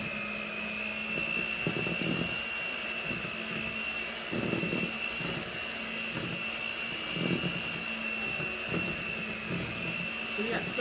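An electric mixer beating half a cup of butter for Deadpool Oreo pops runs with a steady, fairly loud whine, its motor pitch holding even while soft clatter and bumps pulse underneath throughout.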